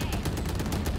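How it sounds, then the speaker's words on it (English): Rapid gunfire from the tactical shooter Valorant: a continuous quick rattle of shots, loud and close, filling the whole brief moment. "I shot the wall above him"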